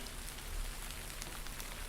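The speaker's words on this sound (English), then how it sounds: "It starts to rain harder." Heavy rain in a video game, a dense, even hiss of falling drops, faint and steady throughout with no voices.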